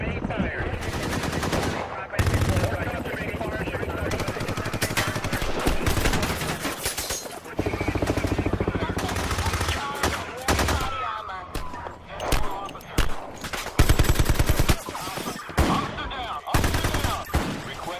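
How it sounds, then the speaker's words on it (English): Automatic weapons fire in rapid sustained bursts during a film shootout, loud and close, with brief gaps between volleys and shouting voices in between. "They've got automatic weapons."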